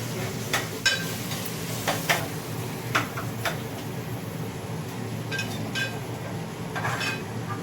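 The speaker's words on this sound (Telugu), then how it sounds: "కొంచెం కలుపుకోవాలి ఫ్రెండ్స్ లేదా మాడిపోయి" Ginger frying in a pan while being stirred, a steady sizzle under sharp intermittent ticks and scrapes of a spatula against metal, close and continuous, no talking.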